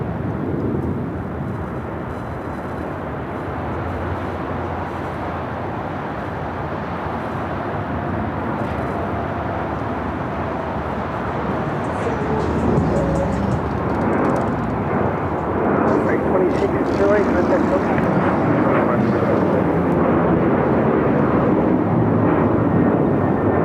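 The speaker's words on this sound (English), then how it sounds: "Next takeoff is American Airlines Flight 2608 heading to Chicago O'Hare. It's a 737-800." An American Airlines Boeing 737-800 bound for Chicago O'Hare takes off from runway 25 right at Los Angeles International. Its loud, broad jet roar holds steady and then swells stronger toward the end, with a voice talking over it.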